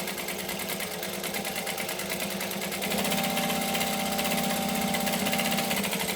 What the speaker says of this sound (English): I'm just going to stitch within the seam allowance that we just did to add another piece